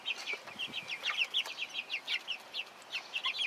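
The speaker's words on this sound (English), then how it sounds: "And these are the Cornish cross meat birds," Young Cornish Cross meat chickens cluck continuously in soft overlapping bursts, a small flock nearby in a coop, with a quiet hiss of background noise.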